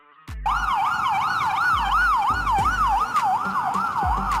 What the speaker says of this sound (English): This is the police car of Greece.